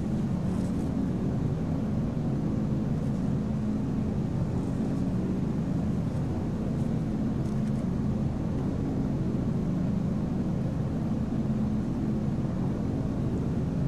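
Steady, muffled engine drone from a Spruce Goose flying boat coming in to land near Toronto Harbor in a flight game, a constant low roar with no talk.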